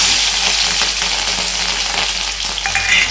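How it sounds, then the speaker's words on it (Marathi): Cumin seeds dropped into very hot oil for a tempering sizzle loudly and continuously, a dense crackling hiss close up with a few sharper pops and no voices. "तेल जास्तच तापलेलं आहे, थोडेसे जिरे टाकले"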